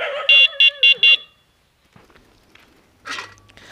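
An electric horn fitted to a modified old mini bicycle gives four short, loud electronic beeps in quick succession near the start, then falls quiet apart from faint handling noise and a brief later burst.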